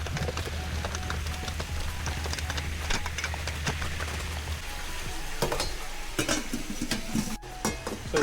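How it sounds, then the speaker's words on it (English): Crab being stirred and moved around in a frying pan for a buttered salted egg crab dish, steady sizzling and frying under scraping utensil strokes, continuous and fairly close with no talking. "I'm just gonna give it a stir and move it around"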